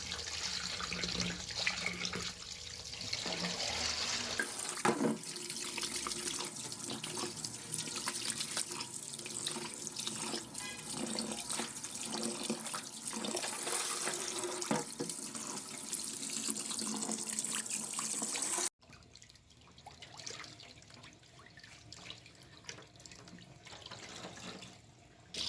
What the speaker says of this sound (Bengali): মাছগুলো কেটে নিয়েছি। এবার সেগুলোকে ধুয়ে নিচ্ছি খুব